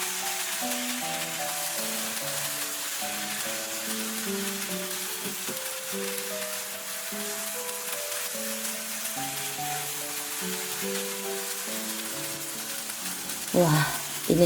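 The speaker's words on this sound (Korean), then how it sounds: "이제 센 불에서 빠르게 볶는 게 중요해요." Steady, loud sizzling from small octopus stir-fried with green onion, chili and sauce over high heat, with soft background music and a brief clatter near the end.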